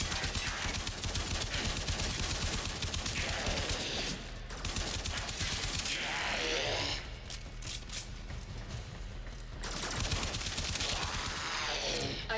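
Rapid primary-weapon gunfire in Warframe, dense bursts of shots fired in long sustained volleys with brief lulls, loud and close over game music and effects.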